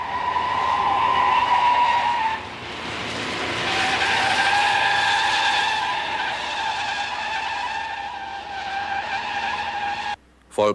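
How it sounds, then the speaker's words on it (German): A 1968 Volkswagen 1500 Automatik Beetle brakes fully from 100 km/h, with loud, sustained tyre squeal over road and engine noise that wavers in pitch for about ten seconds before cutting off. "Vollbremsung aus 100 Kilometern Geschwindigkeit."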